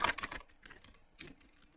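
Close, quiet clatter of fingers typing code on a computer keyboard, with a quick burst of keystrokes at the start and scattered softer key taps afterward.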